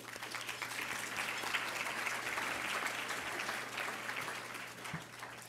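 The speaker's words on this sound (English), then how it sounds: "I want to give you a round of applause for making that happen" Steady applause from the audience at the Georgia Association of Black Women Attorneys 2014 Glitter Gala, a dense, even clatter of many hands filling the room, with no talking over it.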